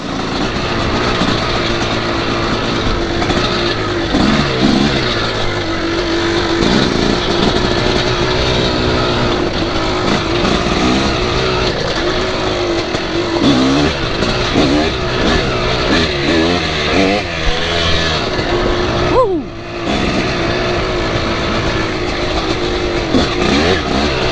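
Off-road dirt bike ridden along a rocky trail, engine revving loudly and constantly with rapid rises and falls in pitch as the throttle works, close and unbroken except for a brief dip near the end.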